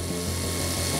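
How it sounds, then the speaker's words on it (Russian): A cordless screwdriver drills a hole in the facade of a high-rise, giving a loud, steady whirring motor drone with a rough mechanical grind and no pauses. "сверлим отверстие."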